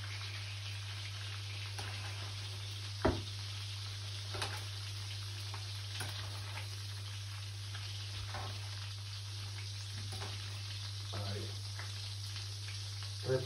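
Large garlic cloves fry in oil with a soft, continuous sizzle and occasional light clicks and taps. The sound is quiet and close, with a person speaking over it.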